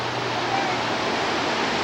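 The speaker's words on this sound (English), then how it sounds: "It's part of the waterfall." A waterfall roars as a loud, steady broadband rush close by, filling the short moment with continuous noise.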